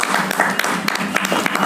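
Brief burst of crowd clapping at a gathering, quick irregular hand claps close by and fairly loud, continuing through the short moment with faint voices beneath.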